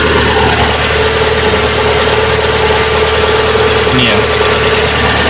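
Hyundai Atoz GLS 2001 engine idling steadily up close with unstable RPM, a continuous mid-pitched hum and rattle running throughout, with a brief voice speaking over it.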